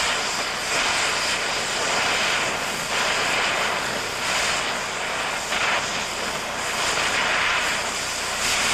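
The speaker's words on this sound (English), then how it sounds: "Back the torch away and ease off the cutting jet lever to slow down the cutting jet." An oxy-acetylene cutting torch roars steadily as its jet cuts through metal, a loud continuous hissing blast that swells and eases slightly without pause.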